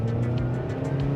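Mazda NC Miata braking hard from speed without fully stopping, fitted with new pads, rotors and stainless steel brake lines, heard as a loud, close, steady engine and road drone with a faint rhythmic pulsing above it.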